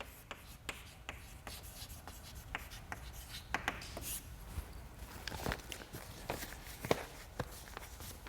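A lecturer writes on a board during a statistics lecture, with a steady run of sharp chalk taps and scratchy strokes, close and clear, and a little shuffling in between.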